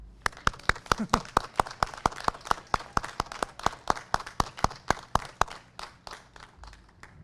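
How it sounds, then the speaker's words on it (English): Graduation ceremony audience claps in a steady, fairly brisk rhythm of distinct hand claps that carries on for several seconds before thinning out and fading near the end. "We got to cheer longer than that."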